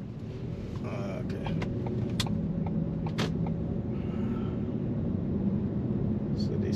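A car drives through downtown Vancouver, giving a steady loud engine and road rumble from inside the cabin, with faint clicks and a muffled voice in the background.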